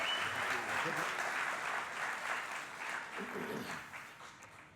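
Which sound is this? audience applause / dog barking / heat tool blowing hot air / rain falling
audience applause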